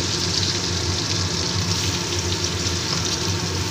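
Finely shredded bottle gourd hits hot oil and spices in a pan, producing a steady, even, fairly loud sizzle that hisses continuously with no breaks and no voices over it.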